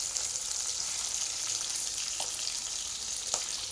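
Fish lightly frying in oil on a clay stove fired with dung-plastered fuel, a steady soft sizzle throughout with a couple of faint pops, close and fairly quiet.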